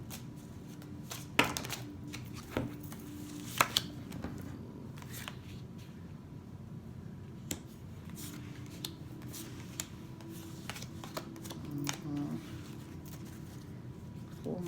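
Tarot cards being shuffled by hand, giving soft, quiet riffling and rubbing with a few sharper snaps scattered through, over a low background hum with faint talk.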